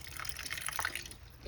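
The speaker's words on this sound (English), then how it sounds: "Put a little bit water in" Water trickles and drips into a thick garlic sauce in a pan while aubergine cooks, a short, soft pouring sound with a few light splashes and no talking.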